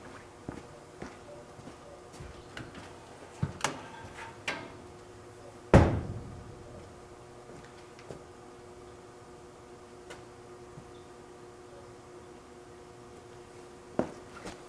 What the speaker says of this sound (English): So the next thing I'm going to do is open the door on the cabinet.